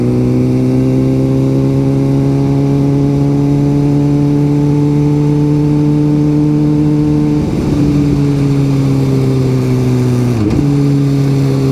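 A 2008 Suzuki GSX-R750 motorcycle engine holds a loud, close, steady drone, dipping twice as gears shift before settling back to a constant pitch.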